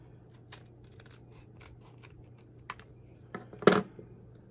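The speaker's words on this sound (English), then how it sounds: "now I want to trim this corner to make it a tag shape" Scissors snip a paper corner to shape a tag, a few soft cuts building to one louder, crisp closing snip near the end in a quiet room.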